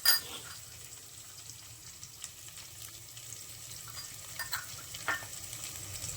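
Boiled potatoes stir and fry in hot oil over browned onions in a pan, a steady low sizzle with occasional scraping, close and without talk.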